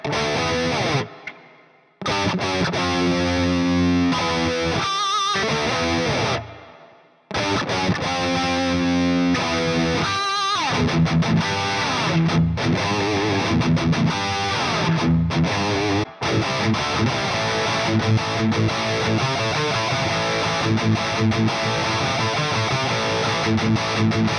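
Epiphone electric guitar played through heavy distortion: loud, sustained chords and riffs with a few brief stops, dense and continuous for over twenty seconds, no talking.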